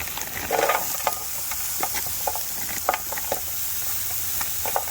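Burgers sizzle and fry on a 2,000-watt portable electric cooker at a truck campsite, giving a steady soft hiss with occasional small pops and crackles, fairly close and without talk.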